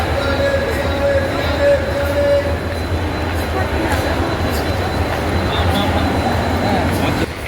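The Palakkad Superfast Express 22651 rumbles steadily at close range at a railway platform, a continuous loud mechanical roar with a faint high squeal early on, filling the whole stretch.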